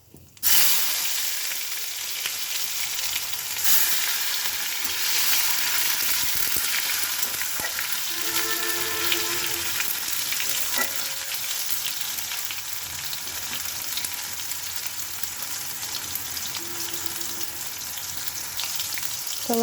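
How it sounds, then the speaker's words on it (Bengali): Tomatoes fry in hot oil with whole cumin seeds and bay leaf, giving a steady loud sizzle throughout while occasional scraping stirs and a few faint tonal sounds sit beneath. "একটু নাড়াচাড়া করে টমেটোগুলো দিয়ে দেবো।"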